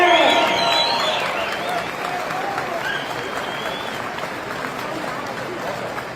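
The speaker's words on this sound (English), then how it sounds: "Please welcome him to the stage with a big round of applause." A live audience breaks into a big round of applause welcoming the MC to the stage at an evening show, dense clapping and cheers loudest at the start, then settling into a steady fainter patter.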